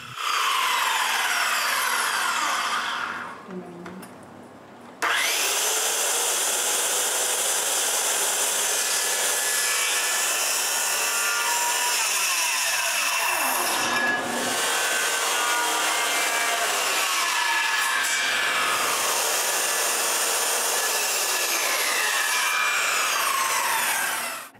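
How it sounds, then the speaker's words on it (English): A hand saw cuts timber rafters for a tenon in a timber frame truss, a long continuous rasping stroke that pauses briefly, then runs on steadily and close for many seconds. "she has to adjust her saw for the tenon width, and then she can make several cuts to form the tenon"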